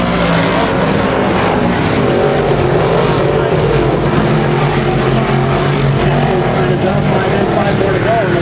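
358 modified race cars roar steadily around Mohawk International Raceway, a dense continuous engine drone that swells and fades as the pack passes, with an announcer's voice over it.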